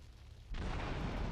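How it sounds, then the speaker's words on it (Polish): Fireworks in Grand Theft Auto 3 burst into a sudden, sustained crackling boom that starts midway and continues at steady loudness, alone without talk. "fajerwerki na koniec"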